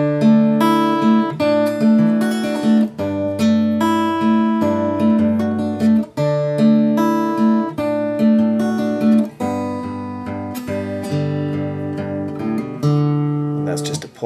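Acoustic guitar plucking the second, third and fourth strings in a repeating pattern over a low G bass note, ringing clearly and up close, steady and without any talk.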